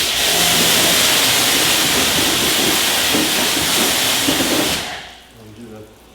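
A strong water spray rinsing a Mercedes GLE 63S during a winter prep wash, a loud steady hissing rush that cuts off sharply near the end and leaves quiet background noise.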